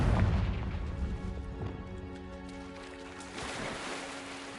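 A Confringo fire spell bursts in the Hogwarts Legacy video game with a booming explosion that rolls into a long rumbling decay. A second swell follows near the end.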